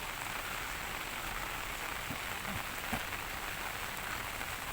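Rain falls steadily at an old gateway in Luang Prabang, Laos, a soft, even hiss with a few faint drips, and no voices.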